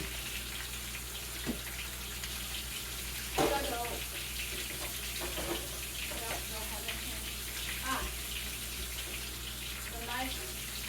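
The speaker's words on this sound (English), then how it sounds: "I'm going to go ahead and wash this strainer." Tap water runs steadily into a sink while a strainer is rinsed, with occasional clinks and splashes over the constant flow.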